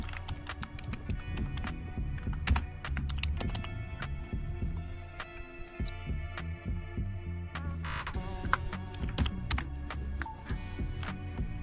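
Rapid, uneven clatter of computer keys being typed, with individual clicks and short bursts close to the listener over a faint background hum, while a Django admin command is entered to create a project; no one speaks.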